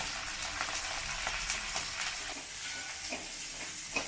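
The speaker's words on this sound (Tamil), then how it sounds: "இப்போ வந்து முருங்கைக்காயை இதில் வதக்கி விட்டுருலாம்." Steady sesame oil sizzling and crackling as drumsticks sauté in a pan, a continuous hiss with small pops, close by and fairly loud, no voices.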